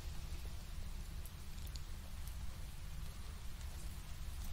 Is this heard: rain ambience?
yes